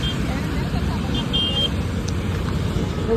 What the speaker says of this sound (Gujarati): અને અત્યારે બહુ ટ્રાફિક છે.